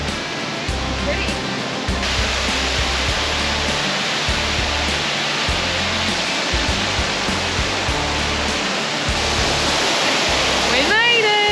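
A powerful waterfall in Victoria, Australia thunders in a loud, continuous wash of rushing water, with low rumbles and brief handling bumps underneath and a faint whistling sweep near the end.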